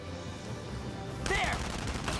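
Gunfire in the video game Valkyria Chronicles 4 starts partway through, a burst of shots over steady background game noise.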